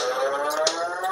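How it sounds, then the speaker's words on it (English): A party horn sound from a Mattel Cave Club Dino Rockin Party toy, a short, bright, buzzy electronic tone heard alone and close up for about a second. "The party horn sound."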